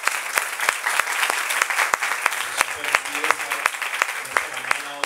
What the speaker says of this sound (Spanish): vamos a darle un aplauso al Espíritu Santo.